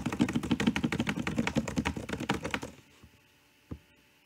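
Rapid, continuous typing on a computer keyboard, close and clicky, stops abruptly after a few seconds, followed by a couple of isolated taps in near silence.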